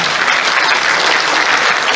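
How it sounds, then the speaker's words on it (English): Brief, dense burst of audience applause at a CashFx Malaysia world tour event, loud and continuous clapping from a large crowd with no break. "I want to give a nice hand of applause to Mr. Justin Holiday, everybody."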